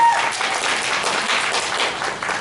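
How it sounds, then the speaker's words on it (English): Convention hall audience gives a round of applause for a panel speaker, dense continuous clapping at steady loudness from start to finish. "A round of applause."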